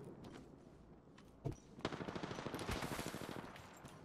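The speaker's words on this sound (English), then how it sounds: "Shots fired." Rapid automatic gunfire bursts in a space shooter video game, starting with a couple of sharp shots and then a dense rattling stream of rounds, moderately close, with no talk over it.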